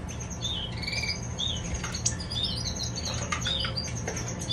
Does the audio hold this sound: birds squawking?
yes